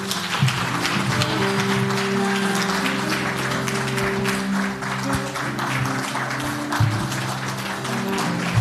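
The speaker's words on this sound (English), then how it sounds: "Keep on clapping for Diana" Audience applause fills a public debt conference hall in Kenya, continuous clapping mixed with crowd noise and a few voices and tones, steady and fairly loud throughout.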